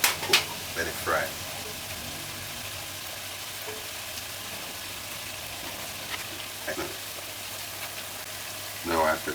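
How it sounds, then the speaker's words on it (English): Salt-fish fritters fry in hot oil with a steady, close sizzle. Brief clinks and stirring scrapes of a utensil break in at the start, near the middle and at the end. "let it cook, let it fry"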